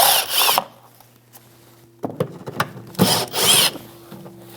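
Plastic fasteners coming off a Jeep Renegade with a 10mm socket, two bursts of whirring power-tool spin separated by quieter scraping, rubbing and clicking, close and moderately loud, no voices.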